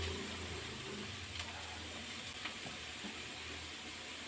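Onions and grated carrot are being stirred in a hot frying pan for carrot tomato rice: a steady, close oil sizzle runs throughout, broken by a few light scrapes of the spoon.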